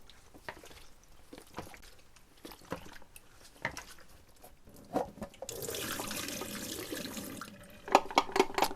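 Tap water runs into a sink while developed film is washed, scattered drips and splashes giving way to a steady gush, then a few louder clunks and splashes near the end.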